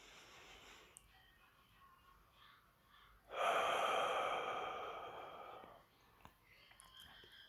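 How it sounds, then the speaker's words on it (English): A single deep inhale, a broad breathy rush that swells and then slowly tapers off over about two seconds, close and fairly clear in an otherwise quiet room. "Take a deep breath."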